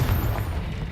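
A Confringo blasting spell explodes in Hogwarts Legacy, a single short, loud, dense boom with a heavy low rumble lasting under a second.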